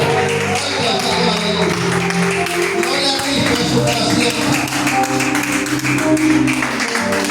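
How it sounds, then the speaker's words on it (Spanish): A church congregation claps loudly and steadily throughout, the rhythmic applause mixed with music and a preacher speaking over it. "Dale un aplauso al Padre, al Hijo y al Espíritu Santo, hermano. Un aplauso fuerte."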